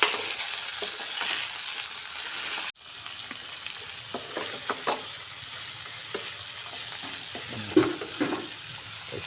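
Tomatoes dropped into a pan of frying mutton curry, starting with a loud sizzle that cuts off abruptly, then quieter frying with scattered stirring clatters.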